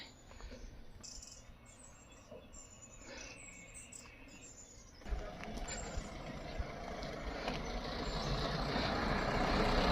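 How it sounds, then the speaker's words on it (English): Traffic on a hill-village road passes outside a cafe, a truck with air-brake hiss and engine rumble building from faint to louder and closer, over steady outdoor ambience with insects and birds. "The occasional cars, spoiling the serenity"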